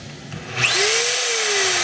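A DeWalt D25032 rotary hammer drill spins up into a steady, loud, high whine with a rising pitch partway through, running continuously and close up with no voices.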